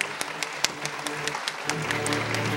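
Applause from the audience at a county awards gala in Łobez, Poland, after a special economic development prize is announced; steady clapping that swells toward the end, with a voice briefly heard over it.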